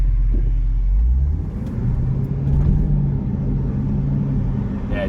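Engine of a 2016 Range Rover running in sport mode, heard from inside as a steady, deep, close rumble with slight swells in power.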